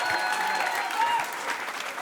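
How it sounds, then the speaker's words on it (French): A comedy club audience at the Jamel Comedy Club claps steadily, a dense wash of applause that holds at an even level throughout with no voices standing out. "On va faire un tonnerre d'applaudissements pour Samuel."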